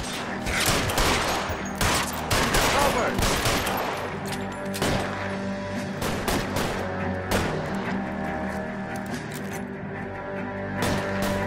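Gunfire from the video game L.A. Noire, with dense, rapid shots and bursts crackling continuously over a steady loud bed of game music and ambience.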